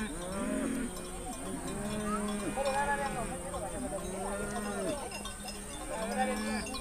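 Cattle of a Maasai herd graze while cowbells clank and animals low in drawn-out moos, a steady pastoral din of bells and bellowing running throughout.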